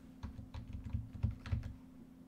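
Fast, uneven typing on a computer keyboard, a quick string of light clicks close by, with no voices over it.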